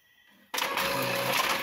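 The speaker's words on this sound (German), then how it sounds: "Ja, das ist ein Epson. Ein sehr cooler Drucker." An Epson printer starts up abruptly after near-silence, then runs with a steady mechanical whir and faint tonal hum as it prints, close and alone without speech.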